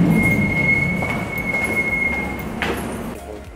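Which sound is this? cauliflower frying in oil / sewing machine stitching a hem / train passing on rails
train passing on rails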